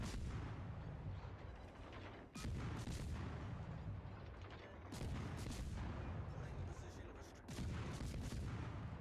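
Naval guns fire in a warship video game: a steady run of heavy booming blasts, roughly one every couple of seconds, over a loud continuous rumble of battle noise.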